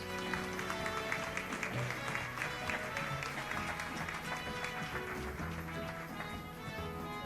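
Audience at a school science contest award ceremony applauding, steady dense clapping held throughout at a moderate distance, with scattered murmurs underneath.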